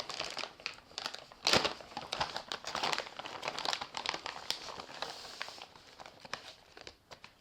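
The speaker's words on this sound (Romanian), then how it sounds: "Și mai avem un ambalaj, o pungă cu foarte multe cabluri." A plastic bag full of cables crinkles and crackles as it is handled while unboxing an Android multimedia head unit radio for a Peugeot, giving close, continuous rustling with a few sharper crunches.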